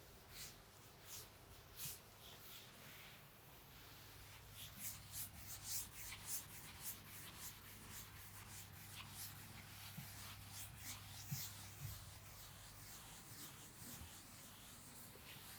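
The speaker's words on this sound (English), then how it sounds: "I am just rubbing the complete solution here." Chalk or marker solution being rubbed off a classroom board during a Class 10 maths lesson, a soft, steady scrubbing with repeated faint swishes over a low hum, no talking.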